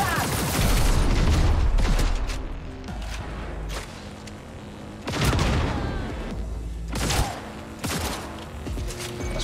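Gunfire from a firefight in Cyberpunk 2077, with loud booming bursts and rapid volleys clustered near the start and again around the middle, trailing into scattered shots and mechanical clatter over a constant low game rumble.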